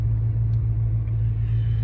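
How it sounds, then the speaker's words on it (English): A 2016 Dodge Challenger idles steadily with a low, even engine rumble throughout, close by and alone, without a start or rev. "the car is running right now."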